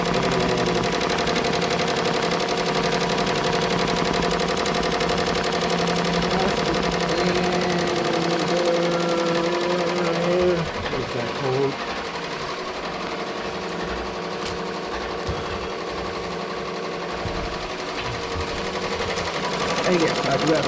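An embroidery machine stitches through fabric sandwiched between stabilizer and plastic, giving a fast, continuous mechanical chatter with a steady rhythm. A voice speaks faintly beneath it.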